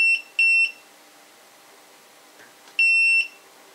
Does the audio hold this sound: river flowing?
no